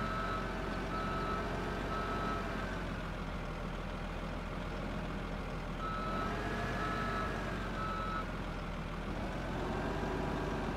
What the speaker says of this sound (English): Let's drive the truck up and see what happens.